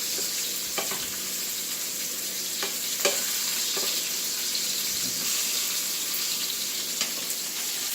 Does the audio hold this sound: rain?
no